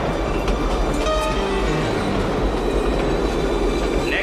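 A subway train in the 1993 film The Fugitive rumbles loudly and continuously, wheels clattering on the rails with faint metallic squeals above the steady roar.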